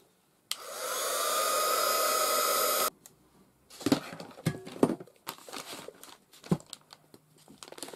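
A hair dryer runs loudly for about two seconds to dry a wax paper journal page, then cuts off, followed by scattered crinkling, tapping and rustling handling noises.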